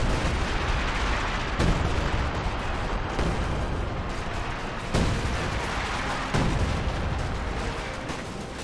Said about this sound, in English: He has introduced some improved major artillery.